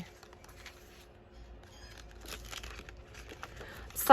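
Deli paper being handled and crinkled close by, soft scattered rustles and crackles with a louder crinkle at the end, with no talk.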